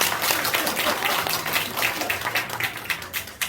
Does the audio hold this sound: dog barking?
no